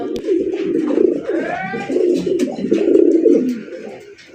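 A male fancy racer pigeon of the round-headed golla breed coos in a cage, its low, throaty rolling calls repeating steadily and close by with a few rising swoops.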